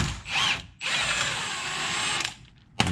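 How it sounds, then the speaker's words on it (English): Ratchet wrench loosening the 16mm and 15mm steering rack bolts on a BMW E46, E36 or E30 during an oil pan gasket job, a loud, close, continuous rapid clicking for about two seconds, with no talking. "We're gonna loosen our rack bolts."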